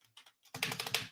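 Quick burst of typing on a computer keyboard: a few sparse key taps, then a rapid, dense run of sharp clicks, close and clear with no voices.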